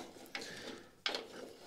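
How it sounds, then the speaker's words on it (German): A ratchet turning high-performance screws out of squared timber beams, two distinct clicking pulls about a second apart, close but quiet, with no talk. "diese Hochleistungsschrauben aus diesen Kanthölzern drehen"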